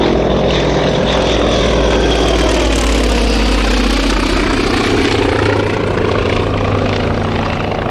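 A Polikarpov I-153 staggered-wing biplane from 1939 roars with its propeller engine, loud and continuous at close range, its pitch sweeping as it passes by.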